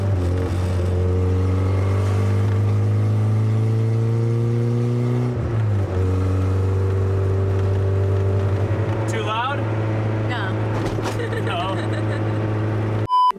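An LS-swapped Honda Civic cruising, its engine holding a loud, steady low drone with a brief dip around the middle, clicks and rattles near the end.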